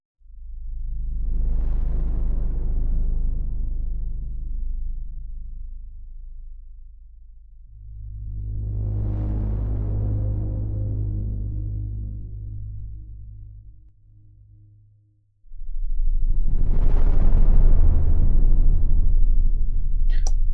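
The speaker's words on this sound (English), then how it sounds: "Very nice soundscapey thing. Haunting reverb." Three slow swelling washes of deep, reverberant sound rise and fade in turn, eerie and spacious, with a low droning rumble underneath.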